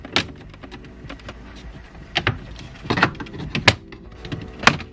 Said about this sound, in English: we can get the dash off. If we start here on the bottom and then just gently work our way up through the top. Plastic pry tool